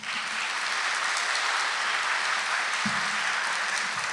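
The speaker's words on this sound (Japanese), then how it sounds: "皆様拍手をお願いいたします。" An audience at a public debate for the Fukushima gubernatorial election applauds, a dense even wash of clapping that holds steady from start to finish with no voices over it.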